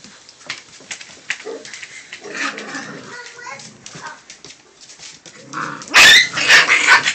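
Excited puppies bark and yelp, with a burst of loud, close barking near the end over an ongoing cluttered background, while a person speaks softly to them throughout.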